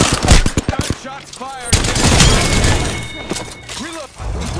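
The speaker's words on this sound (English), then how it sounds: "Gunshots" Gunfire in the video game Apex Legends: a fast burst of sharp automatic shots, then a crashing, shattering impact and more firing, loud and close, with a game voice speaking briefly in between.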